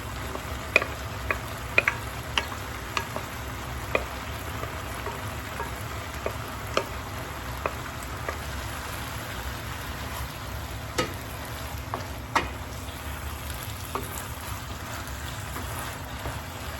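Rice goes into a pot of softened simmering beans for Caribbean rice and peas, giving a steady low bubbling sizzle with scattered small clicks and scrapes of stirring, close and without speech.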